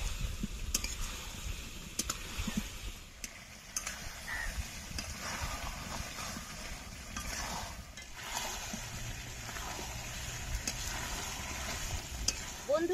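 Chicken pieces and fried potatoes sauté in a pan with a continuous low sizzle, while a utensil stirs and clinks against the metal at irregular moments.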